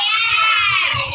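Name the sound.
child imitating a goat's bleat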